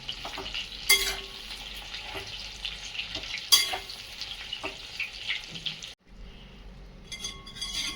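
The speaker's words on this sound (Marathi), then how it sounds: "वांगी टाकून झाल्याच्या नंतर हे असं वांग्यांना आपल्याला खालीवर करून घ्यायचं आहे वांगी उलट पलट करून घ्यायचे आहेत" Stuffed brinjals fry in oil in a pan with a continuous sizzle, while sharp clatters and scrapes sound as they are turned over, and a brief pause breaks the frying near the end; no speech.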